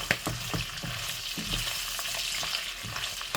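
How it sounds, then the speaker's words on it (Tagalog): Pork frying in its own rendered fat, a constant close sizzle broken by sharp pops and spatters of grease, with no voices over it. "Takpan ko na lang kasi sobrang talsik."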